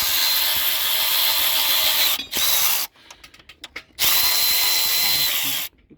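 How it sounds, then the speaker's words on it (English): Power ratchet or drill-style tool spinning a nut loose on the 3.0 diesel engine of a Ford F150 during timing belt work, a loud steady whir broken by short pauses and one quieter stretch, with no talking. "Make sure your ratchet's on reverse and not forward, like mine is."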